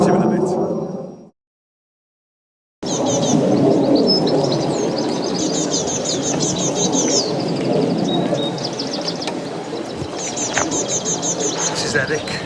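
Village birds, pigeons or doves, cooing and chirping close by and fairly loud after a brief silence, with outdoor background noise throughout.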